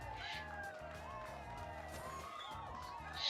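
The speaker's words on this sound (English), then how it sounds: "That's because people are cheering." Crowd cheering in the video game Ys: Memories of Celceta: shrill, warbling whoops that sound almost like squawking gulls, running throughout over a steady, pulsing game soundtrack.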